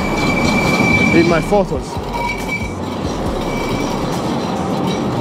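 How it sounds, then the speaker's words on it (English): A street tram in Istanbul rumbles past nearby, its wheels squealing and clattering loudly over the rails before fading into a steady rolling drone, while a person speaks briefly over it. "let's try not to get run over by the tram"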